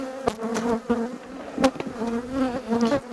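Honeybees buzzing around an opened hive frame with emerging brood, a close, steady insect drone with wingbeat tones rising and falling as bees pass near, no voices.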